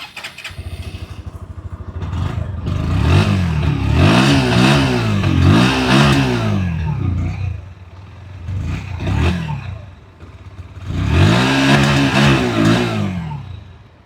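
A Bajaj Pulsar NS125 motorcycle engine starts and revs in several rising bursts, close and loud, with short lulls between throttle blips.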